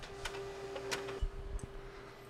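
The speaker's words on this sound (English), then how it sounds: "You're gonna hear the printer start going off pretty soon" An office printer whirs into motion while printing a meal period waiver agreement, giving a few close ticking mechanical clicks and a steady faint hum, with one sharp thump partway through.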